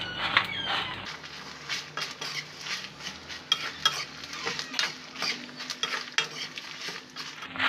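Spices with cumin seeds roasting in a pan, stirred steadily with a metal spoon that scrapes and clinks against the pan in a busy, continuous rhythm close up.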